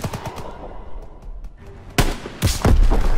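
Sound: gunfire in a video game

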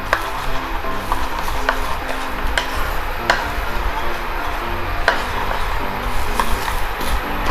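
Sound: stir-frying chili and garlic in a pan

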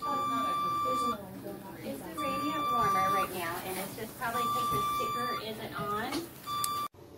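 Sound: alarm beeping

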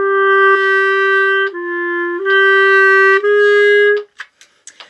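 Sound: clarinets playing a wah-wah, crescendo too early

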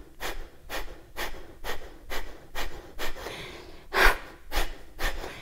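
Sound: forceful exhalations in pranayama breathing exercise

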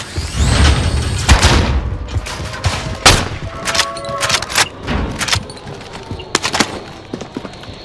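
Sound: grenade explosion in Call of Duty Warzone video game

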